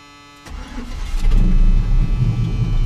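A Chevrolet 350 V8 in a C10 pickup, running with a knocking rod, cranks over and fires up, then settles into a loud, steady, rumbling idle close by.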